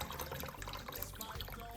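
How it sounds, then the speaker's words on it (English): Water pours steadily into ranch in a container, a dense splashing trickle with no speech. "I'm going to add water"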